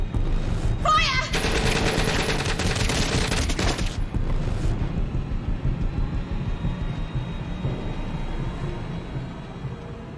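Loud bursts of rapid automatic gunfire from The Complex video game fill the first few seconds, dense and sustained, then give way to a low rumbling aftermath that slowly fades, with no voices over it.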